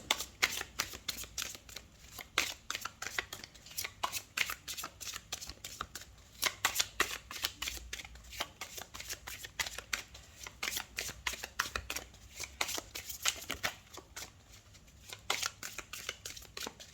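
Tarot cards are shuffled by hand in rapid riffling bursts, crisp papery flutters and slaps repeating irregularly across the whole stretch, close and fairly quiet, with no one speaking.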